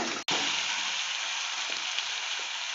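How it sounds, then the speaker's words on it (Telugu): Onions with ginger garlic paste frying in a pan, a dense, loud, continuous hiss of sizzling close by, with a brief cutout near the start and no talking. "అవి ఆనియన్స్ కొద్దిగా ఫ్రై అయిన తర్వాత జింజర్ గార్లిక్ పేస్ట్ వేసుకోవాలి"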